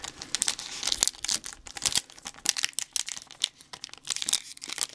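Crinkly plastic foil wrapper of a Pokemon booster pack being torn and crumpled open, a close run of sharp rustles and rips in irregular bursts, fairly quiet.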